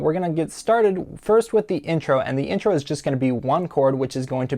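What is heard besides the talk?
None of the usual background noises is heard.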